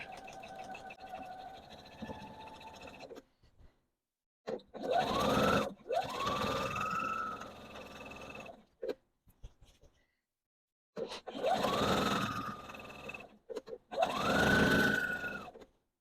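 A sewing machine stitches a straight pillowcase seam at an eighth-inch allowance in short bursts of motor whir, several separate runs broken by pauses and light handling sounds, close and clear.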